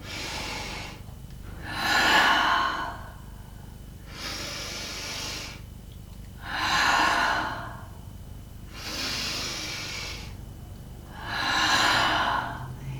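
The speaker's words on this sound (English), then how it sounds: "And you can exhale with a ha sound." A yoga student exhales with an audible, breathy "ha" three times at a steady pace, each long airy breath close and fairly loud, with quieter breathing between them.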